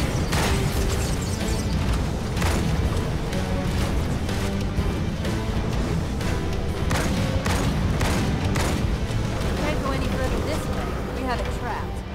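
Grenade blasts and gunfire from the video game Halo 2 pound through a dense, loud battle mix, with repeated booming bursts every second or so over constant rumble and background talk.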